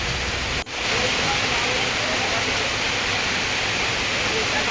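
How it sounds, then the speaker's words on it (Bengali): Heavy rain pours down near a river, a dense, loud, even hiss that fills the whole stretch after a brief dip near the start. "তো বৃষ্টির আওয়াজটা শুধু শোনো"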